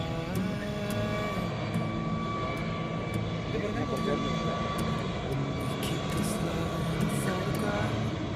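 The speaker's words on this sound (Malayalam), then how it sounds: "മൂന്ന് പ്ലെയിൻ കണ്ടുപോകുന്നു." A jet airliner's engines roar continuously at Kozhikode airport's tabletop runway, a steady loud drone with a sustained whine and faint chirping over it, heard from an outdoor viewpoint.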